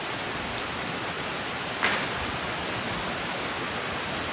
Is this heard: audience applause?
no